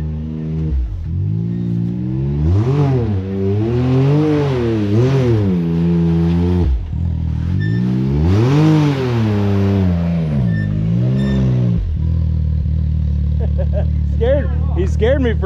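Off-road vehicle engine at an ORV park revving hard in two long, rising and falling bursts, loud and close, then dropping to a lower idle rumble near the end.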